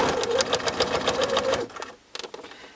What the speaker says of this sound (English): So I'm going to stitch through that one.